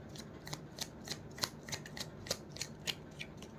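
A deck of cards is shuffled by hand in a final shuffle, producing a quick series of soft, crisp clicks and flicks in an uneven rhythm, close and fairly quiet, with no talking.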